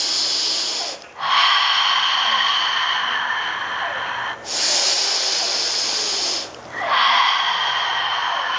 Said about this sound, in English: Stay in this squat, stay nice and low, be relaxed and breathe